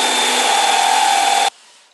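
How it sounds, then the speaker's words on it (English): A power drill with a 16mm bit bores through a wooden door in a loud, steady whine with a strong tone. It stops abruptly after about a second and a half, leaving a faint tail. "And now with the 16mm drill bit again"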